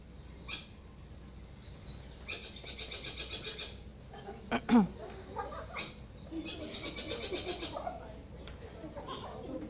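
Repeated raspy, chattering burrowing owl calls in short bursts, somewhat chicken-like, moderately distant in an open field, with a brief sharp squeak in the middle.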